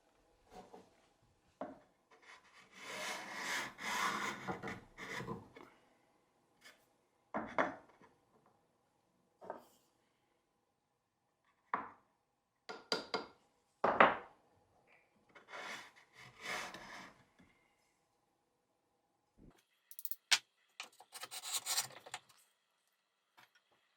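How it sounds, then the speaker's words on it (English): A cheap Buck Bros. 3-inch block plane scrapes across a scrap piece of pine in a series of short, dry, rasping strokes separated by pauses, close and fairly quiet, with no talking. "it's pretty much just scraping the wood instead of cutting it"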